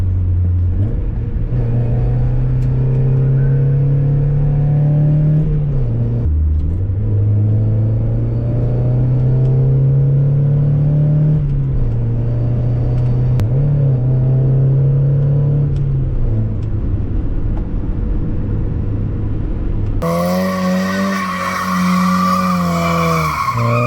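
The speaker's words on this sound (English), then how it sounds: "let's throw this car around in some corners and see how it does" A Mazda Miata's four-cylinder engine revs and drones loudly, pitch rising and falling as it's pushed hard through corners, with tire noise throughout and a sudden change near the end.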